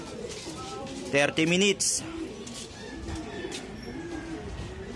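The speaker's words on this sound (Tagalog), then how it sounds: "So ito sila mga kalapatids." Pigeons coo in soft repeated low phrases near a loft, under someone talking, with a louder burst of higher calls early on.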